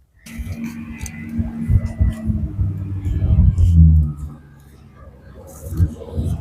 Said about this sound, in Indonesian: Kayak kedengaran suara bis sekolahnya anak-anak